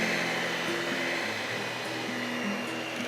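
Electric stand or hand mixer beating pumpkin cake batter with eggs and sugar, a steady loud motorized whir with a constant hum throughout, no talk.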